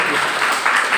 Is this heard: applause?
yes